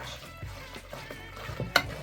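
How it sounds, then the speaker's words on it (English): Cooled coconut custard is whisked into butter in a bowl, giving soft, quick scraping strokes at an even rhythm, close and fairly quiet with no talking. "Add the cooled coconut custard over the butter, a bit at a time, and whisk it through."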